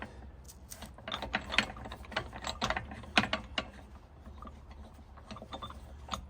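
Ratchet handle with an extension spinning loosened lug nuts off a wheel on an overland build vehicle, giving quick bursts of close, dry clicking and metallic rattles with short pauses between runs.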